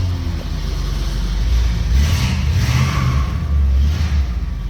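A 1971 Ford E200 high-top camper van with a 302 five-liter V8 runs with a steady low engine rumble, close by and fairly loud, slightly rising and falling throughout.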